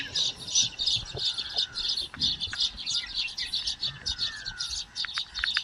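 Many house sparrows chirp continuously in a busy, overlapping chatter at moderate distance, with a faint outdoor background.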